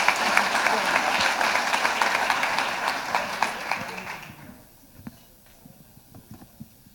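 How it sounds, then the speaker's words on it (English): Audience at a Rotary luncheon in Seattle celebrating Seafair applauds steadily for about four seconds before the clapping fades out, leaving scattered faint claps and room noise. "Can we have a big round of applause for all the participants?"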